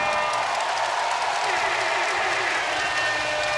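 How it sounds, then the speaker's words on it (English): Basketball crowd at a T1 League game between the Taoyuan Leopards and Kaohsiung Aquas reacting to a moving-screen foul called on Dwight, a steady loud roar of cheering and clapping throughout with a commentator talking over it. "Crowd's letting him hear it. Cheering him on."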